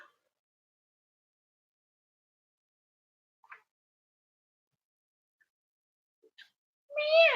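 A voice imitates a cat's meow once, a short rising-and-falling cry at the very end after near silence and a few faint sounds.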